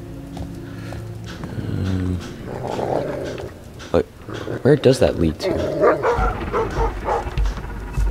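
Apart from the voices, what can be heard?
dog growling and barking in Thief video game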